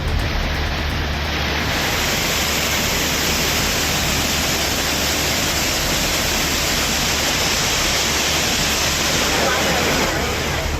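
Steady, dense roar of the Courtallam main waterfall, a continuous broadband rush of falling water that stays loud and even throughout.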